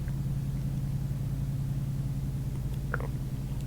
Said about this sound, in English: I've noticed there's a truck, and it's really noisy, and it's starting to get on my nerves.